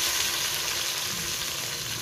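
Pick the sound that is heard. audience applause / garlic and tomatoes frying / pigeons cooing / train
garlic and tomatoes frying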